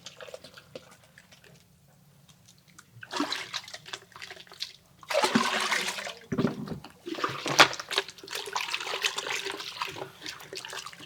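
Gram flour (besan) solution poured into a jivamrit mixture, giving splashy, gurgling liquid pours in bursts after a quiet start, fairly close, with no talk.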